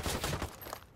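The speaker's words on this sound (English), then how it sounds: "Oh, I didn't know I was on the grenade launcher" A grenade launcher fires in the Ghost Recon Wildlands video game, a short run of quick, punchy blasts that quickly fade out.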